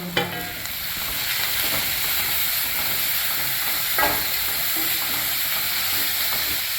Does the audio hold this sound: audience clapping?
no